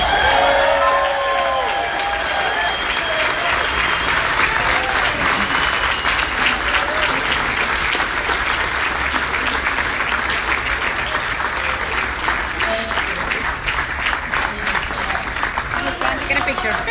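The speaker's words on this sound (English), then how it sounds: "I would like you all to stand and give a round of applause for our next speaker," Big standing ovation at a political event introducing Sarah Huckabee Sanders, heavy sustained clapping with cheers and shouts woven through at the start, filling the room continuously for seventeen seconds.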